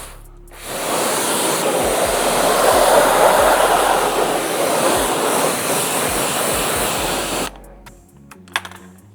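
A water spray rinses an alloy wheel in one long continuous hissing burst lasting several seconds, then cuts off, leaving a few faint drips and knocks.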